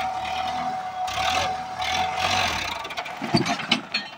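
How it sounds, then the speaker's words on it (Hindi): A Sonalika 750 RX tractor engine, an older model, labors in a low gear while pulling a loaded trolley, a steady mid-pitched drone with rising strain toward the end and no talk over it. "अब देखिए ट्रैक्टर निकल पाता है कि नहीं, लो तीन में लेना।"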